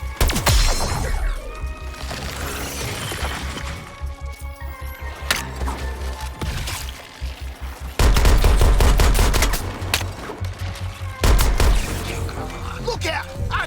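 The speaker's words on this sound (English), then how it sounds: "Look out! Artillery!" Heavy artillery and gunfire boom through a battle in the Suicide Squad: Kill the Justice League video game, with rapid bursts and loud blasts hitting in clusters, the biggest impacts arriving around the middle and late stretch over constant combat noise.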